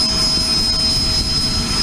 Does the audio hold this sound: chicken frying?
no